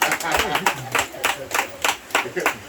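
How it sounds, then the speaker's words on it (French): Scattered hand claps from a small audience at a business visit, roughly a dozen uneven bursts over a few seconds, with speech mixed in underneath. "Ça commence à applaudir."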